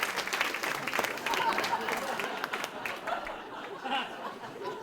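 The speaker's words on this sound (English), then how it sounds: "Let's clap for Linda as she goes back to her seat." An audience applauds at a speakers' showcase event as a participant returns to her seat, steady clapping mixed with chatter and light laughter, fading somewhat toward the end.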